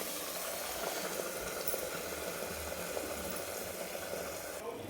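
Paneer tikka masala gravy simmering covered on a low gas flame, a steady soft bubbling and faint sizzle holding at an even level throughout, with no voices.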